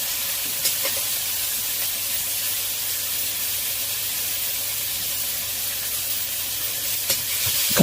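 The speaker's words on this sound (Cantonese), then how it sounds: "用鍋鏟將佢兜勻。" Goose feet and ginger slices are stir-fried in a pan with a spatula, giving a loud, continuous sizzle with occasional scraping clicks from the spatula, and no voices.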